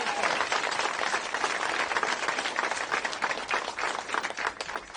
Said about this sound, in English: we're going to give you all a round of applause